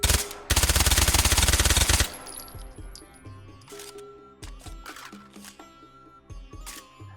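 Scorpion submachine gun in the VR shooter H3VR, loosed in one loud rapid burst of about a second and a half, then a quiet run of clicks and clacks as the weapon is handled.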